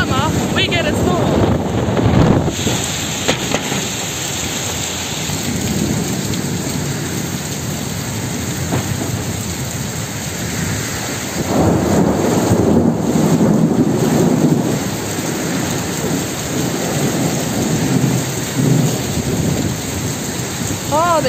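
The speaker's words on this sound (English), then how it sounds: "every time I'm at the shop in summer, we get a storm." A summer thunderstorm in Kambalda, Western Australia, pours heavy rain steadily on surfaces, with rumbling thunder and wind buffeting the microphone; the downpour is loud and continuous, swelling midway.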